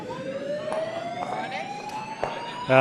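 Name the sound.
siren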